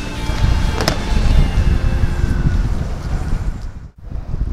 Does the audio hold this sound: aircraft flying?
no